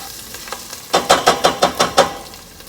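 Rosemary and dried thyme go into a hot butternut squash soup base, giving a soft sizzle and then a run of about six rhythmic, evenly spaced stirring scrapes in the pot, fairly loud and close, with no talking.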